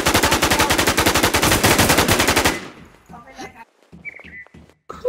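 Rapid automatic gunfire in the video game The Crown Warz, a loud sustained burst of dozens of shots for about two and a half seconds, then scattered quieter sounds with players talking.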